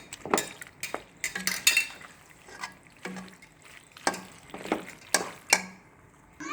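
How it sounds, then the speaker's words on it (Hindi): A spoon stirs cooked macaroni in a pan, producing scattered metallic clinks and scrapes in irregular bursts with soft wet shuffling between them, close up and quiet with no voices. "इसे अब चम्मच की मदद से मिक्स करेंगे।"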